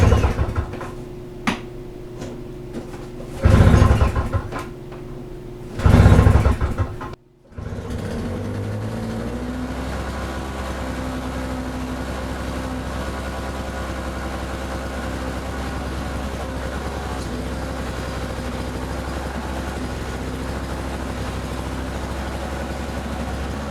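A Toro snowblower's engine sputters through a few pull-start bursts, goes quiet briefly, then catches and runs with a loud, steady rumbling idle that carries on uninterrupted.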